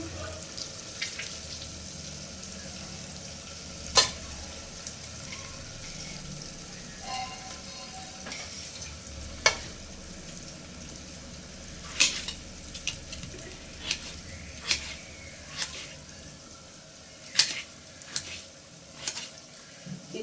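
Food fries gently in a little oil on low heat for rasam, a soft steady sizzle under scattered sharp clicks and clinks of a utensil against the pan.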